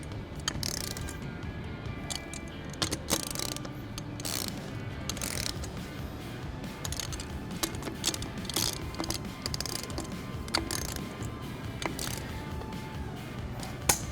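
Ratcheting clicks from a wrench torquing bolts on beadlock wheels at home, a steady run of close, crisp mechanical ticks and ratchet bursts repeating over about fourteen seconds, with no talk.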